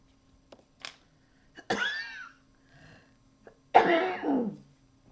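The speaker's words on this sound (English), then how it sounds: "It even gave me more cough." A person coughs close to the mic in a few harsh bursts: a short one, then two longer rasping fits separated by quiet gaps, with no talking.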